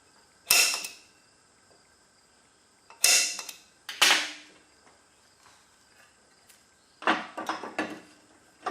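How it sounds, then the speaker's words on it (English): Sharp metallic strikes of a center punch marking a drill point on a coilover shock mount for a Pontiac G8: four distinct close hits with brief ringing tails, spaced apart, the last a quick cluster of taps, with quiet between. "So I'll just go ahead and center punch this at the mark I've made."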